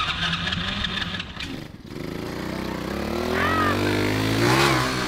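110cc pit bike powered go kart engine revving up during a wheelie, a rising, close mechanical drone that climbs in pitch after a brief dip, with light talk.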